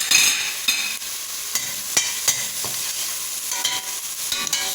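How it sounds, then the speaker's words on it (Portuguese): Two large garlic cloves fry in oil for coxinha dough, giving a bright, close hiss broken by scattered spoon taps and scrapes against the pan. "Vou deixar ele fritar"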